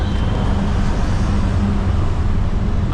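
Riding in an auto rickshaw through Mumbai traffic, a constant loud low engine rumble and road noise fill the cab close up, steady and unbroken throughout.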